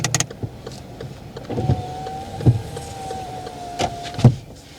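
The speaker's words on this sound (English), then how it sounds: "And if you could close your window, please." A car's power window motor whirs steadily for about three seconds as the window closes at the end of a driving test, with soft clunks at the start and as the glass seals shut.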